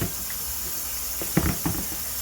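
Tap water runs in a steady low wash as okra is rinsed under it, with a couple of brief splashes and handling knocks toward the end.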